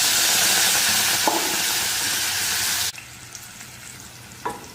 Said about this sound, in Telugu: ఆ పేస్ట్ అయితే వేసేసి కాసేపు అలా ఆయిల్లో ఫ్రై వేసేసి